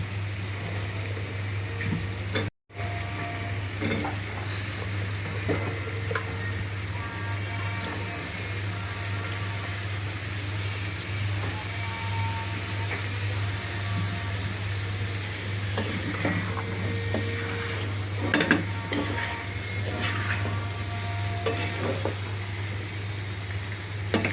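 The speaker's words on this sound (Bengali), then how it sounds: "আলুটা দিয়ে ভালোভাবে আমি আর একটু কষিয়ে নেব" Chicken liver and potato pieces stir-fried together in a pan, a long steady sizzle with intermittent scraping and clinks of a spatula, a brief dropout early on, steady low hum underneath, no speech.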